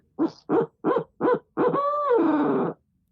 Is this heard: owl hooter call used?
yes